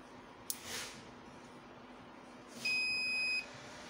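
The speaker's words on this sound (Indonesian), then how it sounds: "Di sini langkah pertama saya akan menyalakan inverternya terlebih dahulu." A 12-volt, 2000-watt sine wave inverter module with an LCD display switches on and gives one clear electronic beep lasting under a second, after a faint click and a short soft hiss, with no talk.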